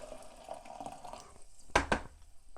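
Water poured into a pot of noodle soup makes two brief splashing bursts, following quiet speech.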